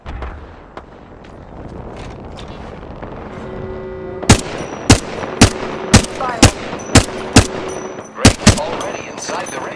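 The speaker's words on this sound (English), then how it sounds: "Enemies are shooting at me." Enemy gunfire in the video game Apex Legends, a string of about a dozen sharp, loud shots at a steady rhythm over low game ambience.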